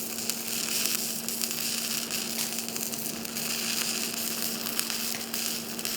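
A welding arc gives off a steady electrical buzz with continuous crackling sizzle, loud and unbroken throughout, with no voices.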